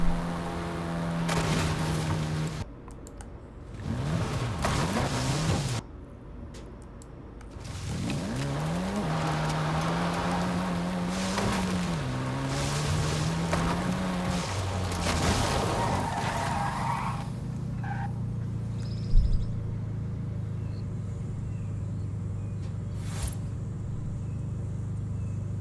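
A Ferrari in a video game roars and revs while its tires skid and squeal through turns, loud and continuous, before the engine settles into a steady lower drone near the end.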